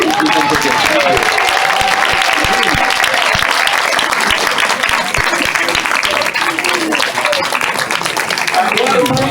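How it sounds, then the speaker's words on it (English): A standing ovation for the graduates of the 103rd Culinary Job Training Class at their graduation ceremony: loud, dense, steady clapping from a large crowd fills the whole stretch, with a brief whistle-like tone near the start. "one more time, a standing ovation for the 103rd Culinary Job Training Class"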